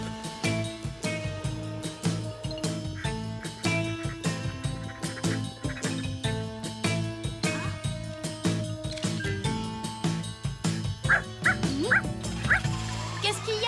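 A cartoon dog named Zim Zim barks and whimpers in short yips, set under busy, continuous background music with voices nearby.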